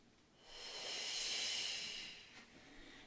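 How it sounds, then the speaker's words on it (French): During a slow pilates exercise, one long audible breath rises into a steady airy hiss for about two seconds and then fades, heard close up in a quiet room with no talking. "Une dernière respiration ici."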